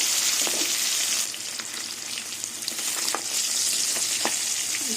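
Pieces of katla fish sizzling in hot oil in a wok, a dense crackling hiss with sharp spatters and a brief dip in intensity partway through, no talking.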